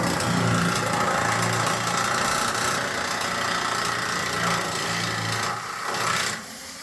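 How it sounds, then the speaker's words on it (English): A nibbler cuts through a steel Colorbond fence sheet, giving a loud, continuous mechanical chatter with a buzzing motor hum that runs steadily for several seconds and then cuts off near the end. "We like to use a nibbler here."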